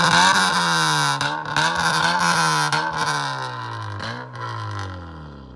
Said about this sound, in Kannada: ಇವಾಗ ವ್ಯಾಲೆಟ್ರಾನಿಕ್ ಕೇಳಿಸ್ತೀನಿ ನೋಡಿ.